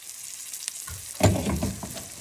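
An egg sizzles as it hits a hot pan of frying lady's fingers and bitter gourd, a soft crackle that swells into steady frying, close and quiet with no speech.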